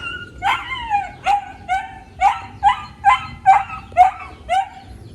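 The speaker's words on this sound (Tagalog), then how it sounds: "Sobrang ingay yung aso" A tied-up farm dog barks repeatedly in a steady rhythm, about nine sharp, yelping barks close by, each with a whiny upward edge.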